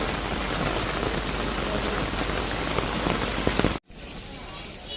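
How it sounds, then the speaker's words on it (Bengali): Heavy rain pouring down on a Bangladeshi street, a dense, steady roar of drops on surfaces, close and loud, breaking off suddenly near the end before resuming more faintly. "জোরে নামতেছে বৃষ্টি।"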